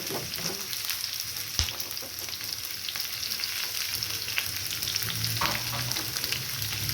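Onions for egg curry sauté in a hot pan, giving a continuous, even sizzle with a few faint stirring scrapes, heard close and alone.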